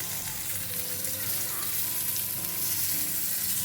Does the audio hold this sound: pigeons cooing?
no